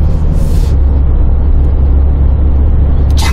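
A 2019 SsangYong Rexton Sports pickup accelerates under steady throttle, a loud, constant engine drone and road rumble heard from inside the cabin with no talk.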